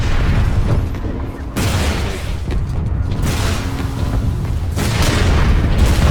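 Tank shell explosions in a video game battle land as heavy, booming blasts, several loud bursts each trailing into rumble, with brief gaps between them and no clear talk over them.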